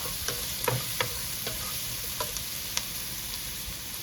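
Chopped capsicum, green or yellow, and other vegetables sauté in a pan for a chicken lasagna: a steady close sizzle and hiss, broken by several sharp spatula taps and scrapes against the pan.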